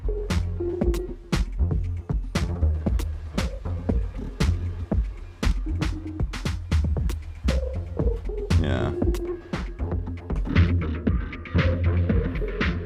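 A Teenage Engineering OP-Z synthesizer runs through a cheap effects pedal, playing a throbbing, repeating pattern of sharp percussive hits over a low humming bassline, with one brief spoken word partway through.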